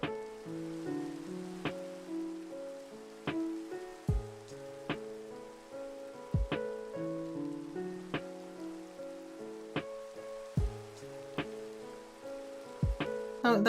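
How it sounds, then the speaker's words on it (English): Rain falls steadily in Minecraft, a soft, even patter that runs under gentle melodic tones and occasional low thumps. "I ended the day by just, well, listening to the rain"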